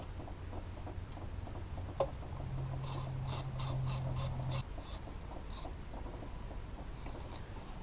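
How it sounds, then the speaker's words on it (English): A ratchet works loose inverted Torx E5 studs on a Toyota 4Runner 3.0 3VZE engine during a timing belt job, giving a quiet run of about eight quick, evenly spaced clicks in a hushed workshop. "Alright, now we'll remove these studs."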